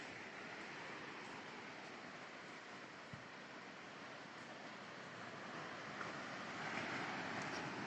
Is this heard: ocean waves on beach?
yes